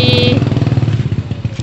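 A motorcycle engine rumbles close by with a throbbing, pulsing note as it rides past, loud throughout the brief moment.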